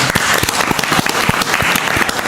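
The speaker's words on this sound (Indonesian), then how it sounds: "Tepuk tangan buat kalian." Loud, close applause rings out for viewers during an Indonesian streamer event: many hands clapping in a dense, continuous roar with sharp individual claps standing out, and no talking.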